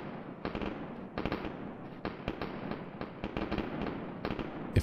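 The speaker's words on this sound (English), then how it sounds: "If only now I knew where the shots were coming from." Rapid gunfire in the BattleBit Remastered shooter game, with sharp cracking shots in irregular bursts and clusters, fairly loud over a steady background of game ambience.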